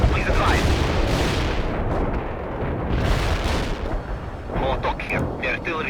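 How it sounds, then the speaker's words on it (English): Artillery strike in World in Conflict, heavy low booms and crackling blasts rolling continuously and loud, with a radio-style voice talking over the latter part. "The artillery strike was off the mark."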